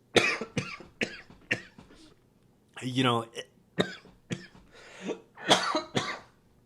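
A person talks, then breaks off for a brief close cough or throat-clearing in the middle before speaking again.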